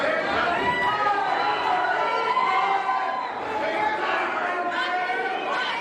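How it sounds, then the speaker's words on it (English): A fight night crowd at Hub City Fight Night rumbles with steady chatter and rising cheers throughout, with a commentator talking over the noise. "Crowd's starting to get into this fight"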